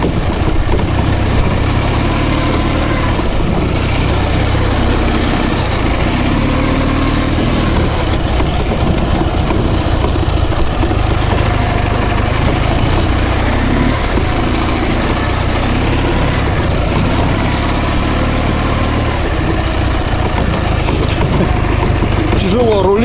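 A Ural motorcycle engine runs steadily while riding slowly, a loud, continuous low rumble with constant wind buffeting and vibration throughout, no pauses.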